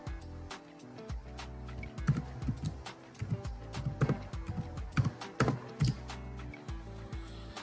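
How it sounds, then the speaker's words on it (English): Password being typed on a computer keyboard in a Kali Linux terminal, a close series of irregular key clicks and taps in short clusters, moderately quiet and without talk. "So I'm gonna write the password now."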